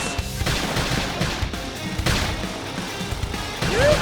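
Gunfire rings out during combat in the video game Xenoblade Chronicles X, dense bursts of shots and impacts mixed with battle effects, loud and continuous.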